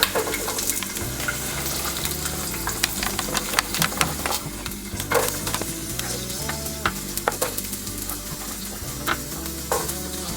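Cauliflower being drained from hot water in a home kitchen, a steady watery rush and splashing with clattery knocks, continuous and close with no talking.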